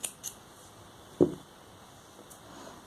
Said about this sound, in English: You can snip off the extra yarn.